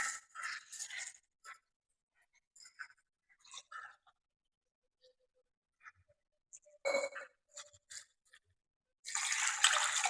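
Urad dal, moong dal and poha are rinsed in water, giving intermittent splashes, sloshing and small clinks in short bursts separated by quiet gaps, close and moderately soft, with no talking.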